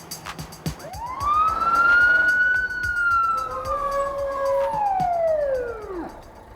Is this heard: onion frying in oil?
no